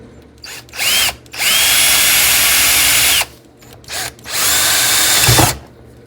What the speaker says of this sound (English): Just to ensure I'm drilling the correct rivets out